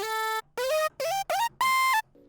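Serum alter lead synth, a bright favorite for rage-style trap beats, plays a short melodic phrase of five separate notes with gliding pitch bends, clear and upfront with brief gaps between notes.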